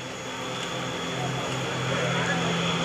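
Red Eagle aerobatic planes taking off in formation at the Wheels and Wings airshow, a steady, moderately distant engine drone that builds slightly as they accelerate, under continuous commentary.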